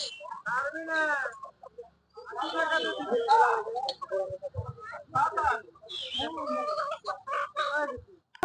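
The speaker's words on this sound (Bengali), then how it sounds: "এই পাশটা পুরোটাই হাঁস মুরগি বিক্রি হচ্ছে" Chickens and ducks for sale at a traditional village market on a cold winter afternoon, clucking close by in short bursts mixed in with steady talk from people nearby.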